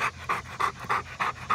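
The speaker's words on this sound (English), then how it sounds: "He's a lab, full-bred lab." A purebred Labrador retriever pants close up in quick, even rhythm, about six breathy huffs in under two seconds, with no talking over it.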